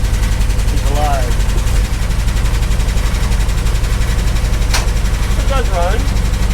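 A 1971 Dodge D700 truck with a Holley 850 carburetor runs just after a cold start, a loud, steady, rough idle with a rapid rattling pulse throughout. People talk over the racket.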